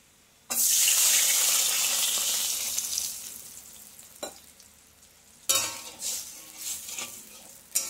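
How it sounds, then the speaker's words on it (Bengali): Water pours steadily for about five seconds into a mixture of ground green chili paste, loud and close, then tapers off, followed by a few short splashes and clinks. "এই জলটা এর মধ্যে ঢেলে দেব"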